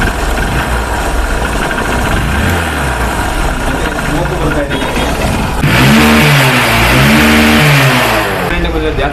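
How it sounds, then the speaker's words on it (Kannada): A Honda Unicorn BS4 motorcycle engine with a timing fault and a smoke complaint runs at close range, idling roughly and then revving louder in the second half, with a voice faintly underneath. "ಇಂಜಿನ್ ಕೂಡ ಸೌಂಡು, ಟೈಮಿಂಗ್ ಚೇಂಜ್ ಸೌಂಡ್ ಇದೆ."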